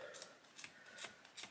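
Scissors snip through yarn at the bottom edge of a machine-knitted blanket, giving four quick, crisp cuts at a fairly even rhythm, close and quiet with no talking.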